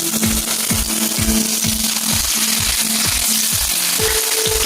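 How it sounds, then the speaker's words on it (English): Fish frying skin side down in hot oil, a loud, steady sizzle with a repeating bubbling pulse and crackle running throughout. "first time you fry, guys, fry it on the back, on the part where you have the skin"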